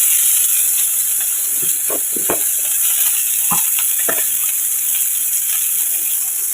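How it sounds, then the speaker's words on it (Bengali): Onions frying in a pan while being browned before fish is added, a steady hiss and sizzle running throughout with a few sharp clicks of stirring scattered across it. "পেঁয়াজটা একটু লালচে হোক তারপরে আমি মাছ দেবো"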